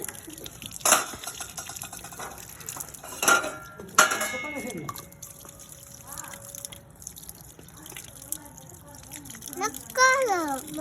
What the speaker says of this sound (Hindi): कुकर को मांझ काले कुकर को मांझ